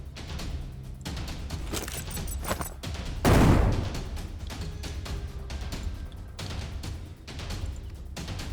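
A grenade thrown at an oversized rat boss in the turn-based game Shardpunk Verminfall goes off as one loud burst of explosion mid-clip, set among busy game sound effects and gunfire-like crackle.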